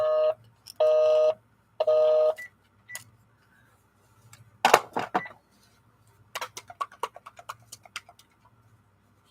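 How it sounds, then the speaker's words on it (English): A landline telephone rings three times in short, even electronic bursts, close and clear, followed by scattered clicks and knocks, with no talk. "That's my phone."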